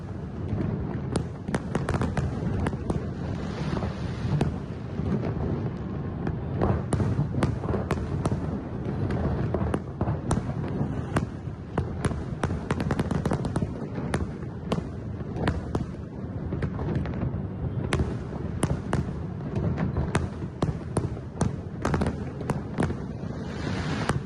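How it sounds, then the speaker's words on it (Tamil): Diwali fireworks over Mumbai, a dense run of loud crackling bangs and pops going off continuously from near and far, with wind buffeting the microphone and no voices. "மும்பையில் வான வேடிக்கைகளுடன் தீபாவளி கோலாகலமாக கொண்டாடப்பட்டு வருகிறது"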